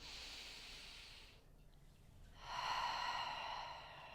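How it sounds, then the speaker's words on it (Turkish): A steady inhalation through the nose during a basic pre-pilates breathing exercise, drawing the belly inward, with a breathy hiss that pauses briefly and then swells louder, close and alone. "Nefesimi alıyorum."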